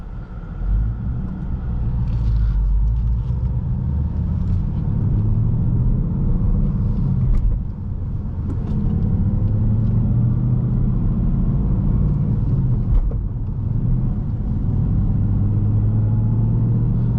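A 2019 Ford Mustang Bullitt with a six-speed manual drones steadily from inside the cabin while driving, a loud continuous low engine rumble with a brief dip near the middle as if shifting, then settling back to a steady cruise.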